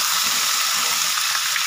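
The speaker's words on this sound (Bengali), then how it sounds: "এই পেঁয়াজের সাথেই মাংসটাকে লাল লাল করে ভেজে নেব।" Chicken pieces fry with onions in a hot pan, giving a steady, dense sizzle and hiss that stays loud and close throughout with no voices.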